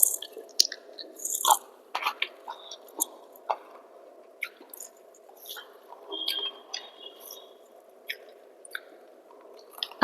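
Close, wet chewing and biting on jute leaf fritters eaten with rice, soft crunches and squishy mouth sounds coming in irregular bursts over a quiet steady background hum, with no talking.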